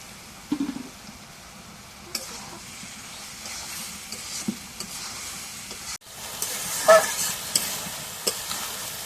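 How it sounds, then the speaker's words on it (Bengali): Potato bhaji frying in a pan, stirred with a utensil, makes a continuous hissing sizzle broken by occasional scraping knocks against the pan, near and moderately loud. "এখন বাজিটা একটু নাড়া দিয়ে দিই"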